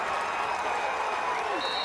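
Crowd at a Duke vs Maryland NCAA men's lacrosse quarterfinal roaring and applauding after a shot clock violation, a dense, continuous wash of cheers and clapping with a commentator talking over it.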